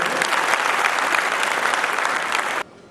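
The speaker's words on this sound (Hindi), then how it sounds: "एक बार जोरदार ताली दीजिए।" Loud, dense applause from an audience at a formal event honouring a High Court Bar Association president, steady clapping that stops abruptly near the end, leaving quiet room tone.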